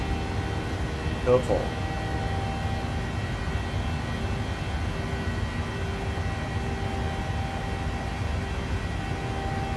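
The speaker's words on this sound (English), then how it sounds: "You can hear those engines roaring." Simulated PMDG 737-800 jet engines in Microsoft Flight Simulator, a steady broadband roar with faint whining tones, held constant throughout with one brief click early on.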